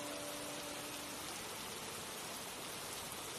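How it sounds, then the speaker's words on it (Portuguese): Heavy rain pours steadily over parched land in Australia, an even, continuous hiss heard softly and alone, with a faint tone fading out at the start. "É uma chuva pesada, forte, que vem lavando essa área que estava precisando tanto dessa chuva."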